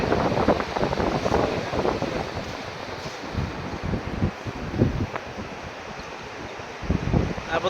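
Strong gusting wind from Cyclone Dana at the sea, roaring broadband with surging rushes and mic buffeting, waves and surf churning underneath, loud and continuous with no voices.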